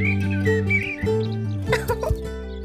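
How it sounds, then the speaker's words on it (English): A cartoon bird sings in a children's animated show, bright chirping whistled notes over background music, moderately loud, with short tweets toward the end. "Can you hear Little Bird singing?"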